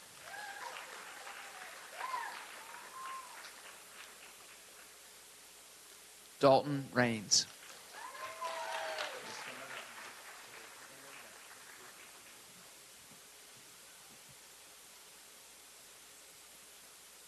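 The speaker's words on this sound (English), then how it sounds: "let's have a round of applause for Mrs. Dillon's class, Kindness Recognition Award winners" At an elementary school fourth grade promotion ceremony, a brief loud burst of audience applause rises in the middle and quickly fades, with a voice speaking names over a public address system before and after.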